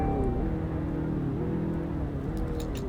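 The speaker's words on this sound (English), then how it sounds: "it doesn't sound too bad when you rev it" A hatchback's engine revs in the Roblox game Greenville, a steady, moderately loud motor drone with a slight shift in pitch over a few seconds, heard alone with no voices.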